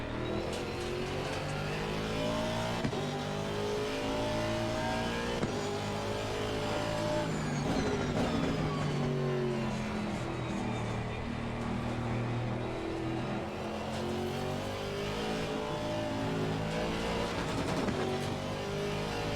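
Race car engine in a sim racing game drives continuously near and loud, rising and falling through revs and gear changes with brief tire squeal.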